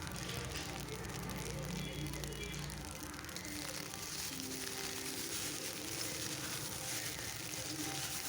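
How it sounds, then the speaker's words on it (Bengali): Leftover rice with onion, egg, salt and turmeric frying in a pan while being stirred again and again, giving a steady, dense sizzle and scrape that runs evenly through the whole stretch, close and moderately loud. "আমি বারবার নাড়াচাড়া করে দিচ্ছি যাতে তল থেকে লেগে না যায়।"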